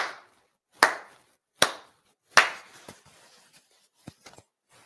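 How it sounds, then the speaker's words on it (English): Ritual hand claps at a Konko shrine ceremony: four sharp, resonant claps spaced evenly about a second apart, each ringing briefly in a quiet hall, followed by faint shuffling and small taps. "4 sincere claps."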